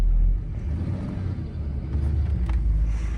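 A car engine rumbles low and steady from inside the moving vehicle while driving at night near caves, with a louder thump at the start and a faint brief whine near the end.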